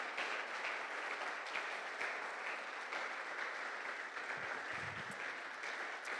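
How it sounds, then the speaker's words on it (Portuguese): Applause from a church congregation in Guinea-Bissau honoring visiting pastors, a soft, steady patter of many hands heard at a distance and fairly faint, running continuously. "Uma salva de palmas em glória ao Senhor Jesus."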